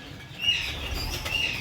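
A pigeon, a lightweight bird being shown by a breeder, flaps its wings in a soft fluttering burst, close and fairly quiet, with no talking over it.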